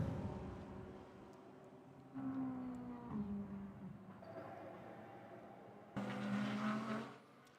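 GT race cars at the Motegi circuit rumble into the pits during qualifying, a steady engine drone swelling louder twice as cars pass by, with no talk over it.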